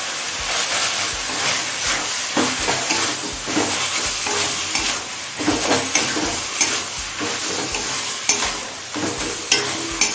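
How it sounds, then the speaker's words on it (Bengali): Sliced tomato is stirred and sautéed with chicken and soybean masala for ghugni, a loud constant sizzle broken by rhythmic scraping strokes of a spatula against the pan. "টমেটোটা সব কিছুর সাথে মিশিয়ে নিয়েছি এখন টমেটো গলে আসা পর্যন্ত কষিয়ে নেব"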